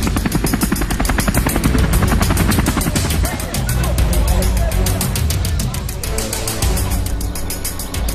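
Helicopters supporting a large FBI and National Guard manhunt near Ariel, Washington, give a loud, continuous rapid chop of rotor pulses with heavy engine rumble, steady throughout and with no voices.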